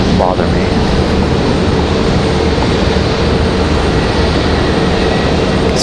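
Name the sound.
Airbus A320-200 arriving from JFK at Raleigh Durham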